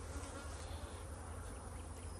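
Honey bees swarming at an open hive during supering and brood box work, a loud, unbroken, close buzzing that fills the moment without any speech.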